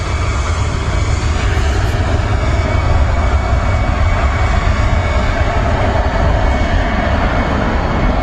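An EasyJet airliner bound for Charles de Gaulle takes off from Manchester Airport, a loud, dense, continuous engine rumble holding steady throughout with no voices.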